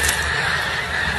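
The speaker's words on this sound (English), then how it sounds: "Thousands of geese and ducks." A hunting morning brings a loud, dense chorus from thousands of geese and ducks: overlapping honks and quacks layered into one continuous clamor, with no talking.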